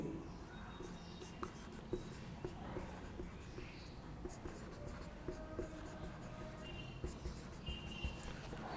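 Chalk or marker writing on a board during an organic chemistry lecture on naming alkanes, with quiet repeated taps and scratching strokes, close and faint, with the lecturer speaking softly.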